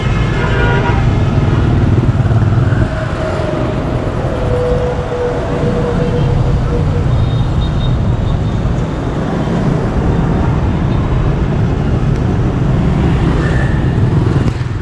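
Loud, constant road traffic roar in Hanoi dominated by motorbike engines, with occasional horn toots rising over the steady drone.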